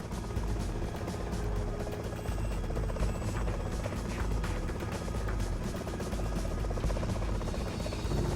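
A Bell helicopter drones steadily throughout, its rotor thumping in a fast continuous beat over a dense engine rumble, close and loud.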